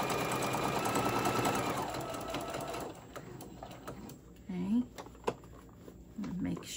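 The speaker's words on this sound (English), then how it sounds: "So I'm gonna keep sewing." A sewing machine stitches fabric for a small scrunchie, running steadily for about three seconds, then stopping, followed by quieter fabric handling with a few brief clicks and soft thumps.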